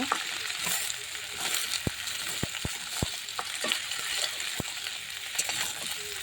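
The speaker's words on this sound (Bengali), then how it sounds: "ফুলকপি আলু দিয়ে দিলাম এবার ভালোভাবে একটু নেড়ে চেড়ে নেব" Cauliflower and potatoes fry in a pan with a continuous sizzling hiss, punctuated by several sharp, loud spoon knocks and scrapes against the pan as the pieces are stirred.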